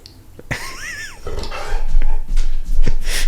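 An excited dog whimpers nearby with a high, wavering whine, then snuffles and huffs louder in short bursts.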